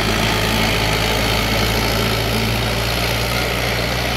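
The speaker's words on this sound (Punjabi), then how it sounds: "ਇਹ 4-wheel ਡਰਾਈਵ 'ਚ ਗੱਡੀ ਚੱਲ ਰਹੀ ਹੈਗੀ ਹੈ" An Eco Master 554, a 55 hp 4x4 tractor, runs under heavy load with an 18-disc implement, its engine a loud, steady, close drone that holds unbroken throughout.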